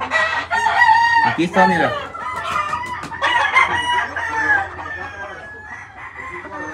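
A rooster among his hens crows loudly close by, one long drawn-out crow with hens clucking around it, while someone speaks briefly over the start.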